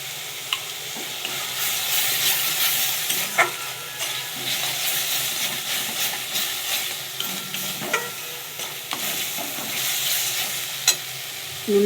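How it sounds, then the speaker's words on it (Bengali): Spice paste for a rohu fish curry, with salt added, being stirred and fried in a pan: a steady broad sizzle with a scraping stir now and then, close and continuous, with no voices. "যতক্ষণ না তেলটা ছাড়ে আমি মশলাটাকে ভালো করে কষাতে থাকবো"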